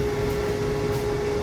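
Woodshop fan and 1 horsepower dust collector running together after being switched on by remote, a steady close broadband roar with a constant hum throughout, no talking.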